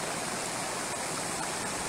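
Water boils in a sulfur hot spring, a steady, faint, close bubbling and gurgling hiss with no pauses.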